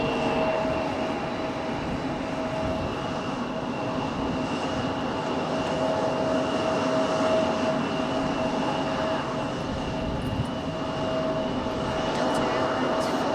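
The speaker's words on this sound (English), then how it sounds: "Delta Airlines 1480-737-900 coming in from Raleigh, Georgia." A Delta Air Lines Boeing 737-900 comes in at Raleigh-Durham, a continuous, fairly distant jet drone with steady whining engine tones held throughout.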